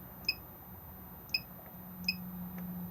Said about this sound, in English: Key beeps on and off